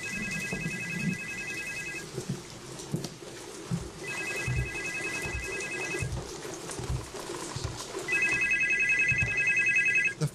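A telephone rings in three evenly spaced bursts of trilling electronic tone, each about two seconds long, over a steady bed of background noise.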